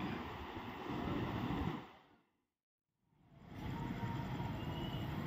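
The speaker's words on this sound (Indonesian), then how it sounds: "kereta api Bima baru saja melintas nih" The Bima long-distance train passes at speed, a loud broadband rumble and rush that drops away into a brief near-silence before another heavy roar of rail noise swells back in, with no voices.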